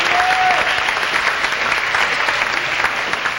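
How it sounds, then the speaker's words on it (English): An audience at a fall fest queen pageant applauds the contestants, a steady, moderately loud patter of many hands clapping without a break. "All 7 ladies did a fantastic job this evening. Give them a big round of applause."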